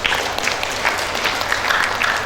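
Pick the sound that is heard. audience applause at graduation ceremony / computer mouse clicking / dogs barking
audience applause at graduation ceremony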